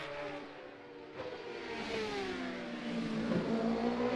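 Racing motorcycle engine at the Macau Motorcycle Grand Prix, a loud continuous high whine that drops in pitch as the rider shifts down into first gear, with rising engine tone after the shift.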